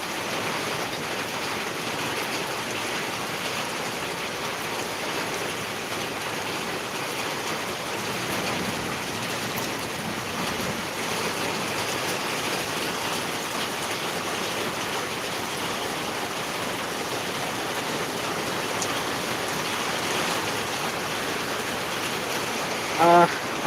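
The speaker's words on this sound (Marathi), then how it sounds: "अकलूज परिसरामध्ये हा पाऊस सुरू आहे" Steady rain falls in Akluj, a broad even hiss of water running and splashing that stays constant throughout, with a faint voice now and then.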